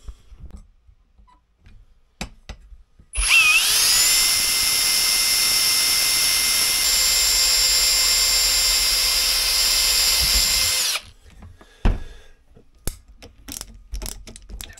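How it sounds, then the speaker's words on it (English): A power drill bores holes to mount a small bracket on a trailer light board, with a steady high whine that holds for about eight seconds, near and loud, between brief knocks and handling sounds. "I can drill the holes and screw this little bracket in."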